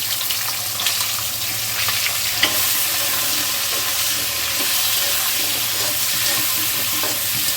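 Gathi kochu (taro) and onion fry in oil with black cumin seeds in a pan, giving a steady, loud sizzle with scraping stirs and a few clicks of the utensil throughout.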